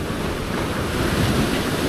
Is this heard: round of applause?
no